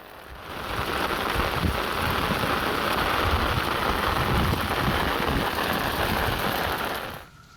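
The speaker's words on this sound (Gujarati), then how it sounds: "વલસાડ શહેરમાં હાલ વરસાદ વરસી રહ્યો છે" Dense, steady hiss of heavy rain falling in Valsad city, Gujarat, holding constant for several seconds before fading out at the end.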